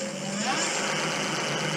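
An electric bike motor running on the throttle during a rebuild, a steady close whirring hum with a faint rising whine, heard alone without talk.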